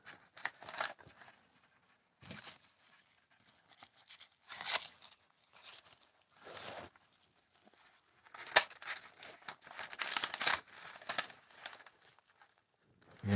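Paper bag being torn and crumpled in short bursts of crinkling and ripping, separated by brief pauses, close and fairly quiet, with no talking.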